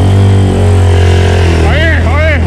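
A mini boat on a lake, driven by a Honda Titan 150 motorcycle engine, gives a loud, steady, close-up engine drone that keeps running throughout, with brief rising chirps near the end.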